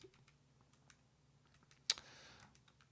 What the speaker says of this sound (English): just typing it into the calculator